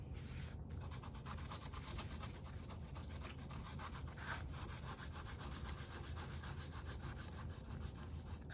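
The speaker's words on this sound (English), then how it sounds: "I am just rubbing the glue off." Dried glue being rubbed off a surface by hand, a continuous close scratchy rubbing with fast repetitive strokes, steady and unbroken throughout with no talking.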